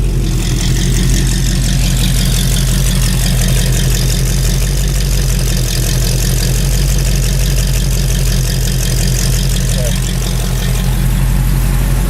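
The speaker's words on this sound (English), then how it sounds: "And here, for those who like my exhaust note," A Ford Ranger pickup idles with a steady, loud, low exhaust rumble that holds an even pulsing tone throughout, close to the tailpipe.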